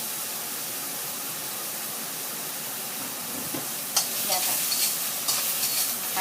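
Bitter melon stir-frying in hot oil in a pan, a steady broad sizzle throughout, with scraping stirring strokes and brighter crackling bursts joining in the last couple of seconds, close and continuous.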